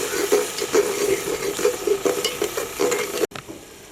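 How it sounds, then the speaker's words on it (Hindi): Ground spices such as coriander powder and red chilli roast in a pan for potato and spinach curry, a close crackling sizzle with a regular rhythmic scraping of a spoon stirring, cutting off abruptly near the end. "थोड़ी देर के लिए मसालों को भून लेना है।"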